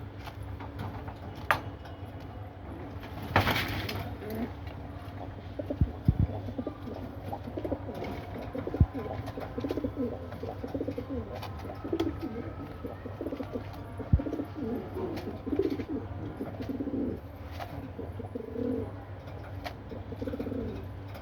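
Pigeons coo softly in a loft, with repeated low murmuring calls and occasional wing flutters and small clicks nearby, ongoing throughout.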